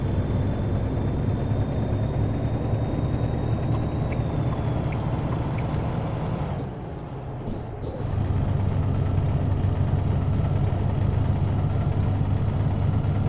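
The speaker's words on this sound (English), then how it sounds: "the engine certainly sounds different than what I'm really used to" An International truck engine drones in American Truck Simulator, a steady low rumble from start to finish, briefly dropping and softening around seven seconds before resuming at full strength, with faint high whines over it.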